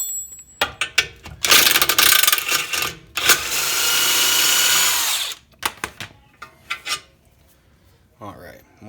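A power tool loosens the lower ball joint pinch bolt on a Mitsubishi front suspension, with close, loud whirring bursts and a sustained run, mixed with metallic ratcheting clicks and handling clatter.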